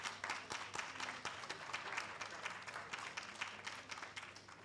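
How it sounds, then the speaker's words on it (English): An audience at a senior citizens' spelling bee competition applauds its finalists, a full, continuous round of clapping with individual sharp claps standing out, steady throughout. "Would like to once again give our finalists a rousing round of applause"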